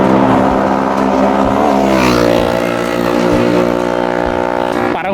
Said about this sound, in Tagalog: May narinig nga kami ni Papa na motor kaya parehas kaming huminto para makita.